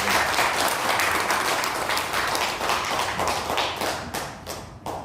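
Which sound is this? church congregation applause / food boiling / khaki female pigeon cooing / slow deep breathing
church congregation applause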